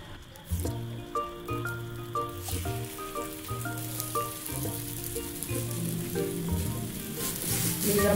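Chicken chapli kebab patties fry in hot ghee with a steady, soft sizzle that runs throughout, partly masked by louder tonal music on top.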